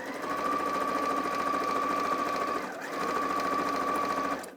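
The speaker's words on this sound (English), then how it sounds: "I'm just going to go straight to the machine, and then I'm just going to sew it the other way" A sewing machine stitches fabric in a steady, close whir, stops for a brief moment, then runs again.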